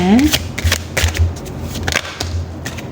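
Oracle cards being shuffled make quick, dense riffling and papery slaps close to the mic, with someone talking over them.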